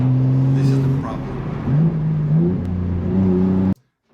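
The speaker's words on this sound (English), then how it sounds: "sometimes it just upshifts in a weird way, but that is just the gearbox and everything trying to cope with this amount of power" BMW M3 sedan engine drones loud and close, its pitch climbing and shifting through upshifts, under steady speech before the sound cuts off abruptly.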